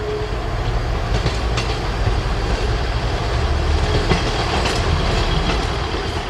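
Second-generation British diesel multiple unit passenger train running on rails, a steady close rolling rumble with faint wheel clicks throughout.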